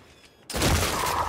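Sudden burst of loud automatic gunfire in the shooter Gears 5 on the Canals map, cutting in after a quiet moment and continuing steadily to the end, close and dense.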